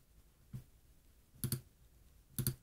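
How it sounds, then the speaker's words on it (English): A computer mouse clicks quietly three times in a quiet room: a single click first, then two quick double clicks spaced about a second apart. "So I click over here."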